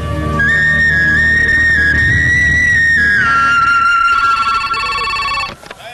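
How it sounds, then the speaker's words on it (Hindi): A telephone rings with a loud electronic melodic tone for about five seconds, then cuts off abruptly. "सलीम भाई आपका फोन।"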